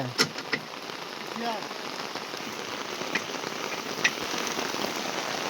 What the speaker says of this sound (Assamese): পূৰা ধামাকা বৰষুণ পৰিছে আজি